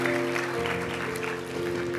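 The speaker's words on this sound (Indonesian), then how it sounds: "Beri tepuk tangan buat Allah kita." A church congregation applauds steadily and densely for about two seconds during a sermon, with sustained musical tones ringing underneath.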